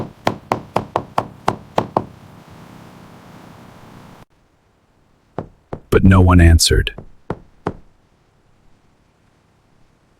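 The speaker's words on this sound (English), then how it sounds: "They knocked on the door." Knocking on a house door, about a dozen sharp, evenly spaced raps in a quick run, followed by a short silence, a few more scattered thuds and a voice speaking.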